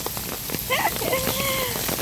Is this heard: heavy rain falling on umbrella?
yes